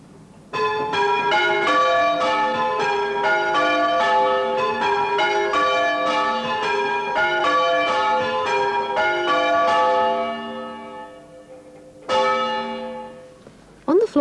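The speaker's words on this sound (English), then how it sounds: "And several bells together sound like this." Several church bells peal together in a rapid cascading sequence of overlapping clangs, then fade, followed by one more brief strike.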